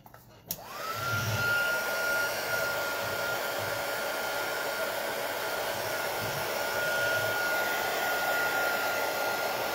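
A hair dryer clicks on and then blows in a steady, loud whirring hiss, drying a handmade craft bookmark at close range, with faint handling sounds underneath.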